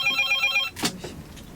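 An inter-Korean military hotline telephone rings with a fast, trilling electronic bell, then stops as the line is picked up, leaving a short click and faint noise.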